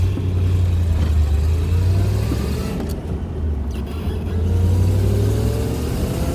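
A 1971 Corvette engine accelerates through its gears from inside the car, a loud continuous low roar that dips briefly mid-way as a shift is made, then builds again.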